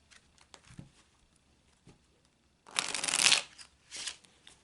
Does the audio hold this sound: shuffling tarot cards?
yes